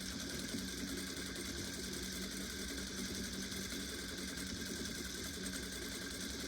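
A sewing machine back-stitches to mend a tear so it is nearly invisible, giving a continuous, even mechanical whir and rapid needle chatter, close and steady with no pauses.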